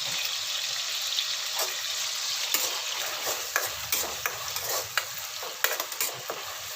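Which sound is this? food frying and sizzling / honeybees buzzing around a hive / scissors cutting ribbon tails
food frying and sizzling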